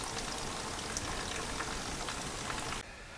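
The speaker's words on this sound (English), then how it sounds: "got our coolant draining." Engine coolant draining out of a car during intake manifold removal, a steady close splashing trickle that runs without a break and then drops off sharply near the end.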